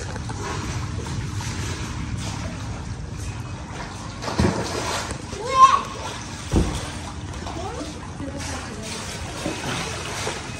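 A child swimming kicks up water, with irregular splashes over steady background water and a few stronger splashes midway, while a voice and other people talk throughout.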